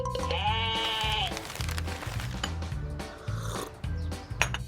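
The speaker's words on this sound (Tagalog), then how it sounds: "Nag-aalmusal ako kasama ang tupa." Sheep bleating on a farm, several drawn-out wavering calls close by, with a steady rhythmic background beat and light clicking underneath.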